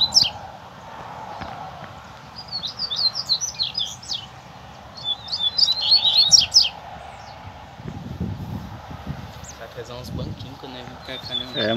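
A double-collared seedeater sings out in the bush, bursts of quick high chirps and warbles coming in clusters, moderately close, over a low rumble of wind and handling noise, with other birds faintly calling.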